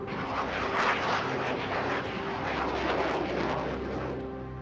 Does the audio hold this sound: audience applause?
no